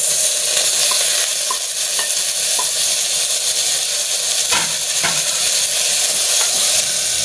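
Tomatoes stirred into sautéing onions in a pan for a kuska biryani base, giving a steady, close sizzle and fry hiss throughout with a few soft stirring knocks and scrapes.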